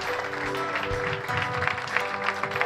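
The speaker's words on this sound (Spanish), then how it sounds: "da un aplauso de gloria al Padre" Church congregation applauding in a soft, continuous patter while music plays underneath, moderately distant and not very loud.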